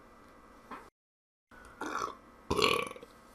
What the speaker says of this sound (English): Sorry about all the burping.